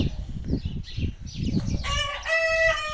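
A rooster crows loudly and close by at the end, following a run of clucking and busy bird chatter in a village farmyard in southern Ukraine.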